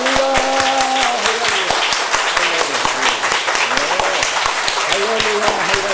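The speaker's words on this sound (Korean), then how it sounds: "감사한 만큼 우리 한번 박수를 치겠습니다." A Sunday morning church congregation applauds, with a loud, sustained wash of clapping and sharp individual claps standing out near the mic, while a voice speaks or sings over the top.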